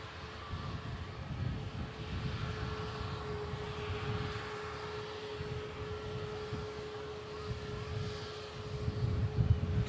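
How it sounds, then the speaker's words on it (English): An EasyJet airliner on final approach, heard as a steady, moderately distant jet roar with a faint constant hum, swelling slightly louder toward the end. "We do have an aircraft on finals, which is the EasyJet from Tivat."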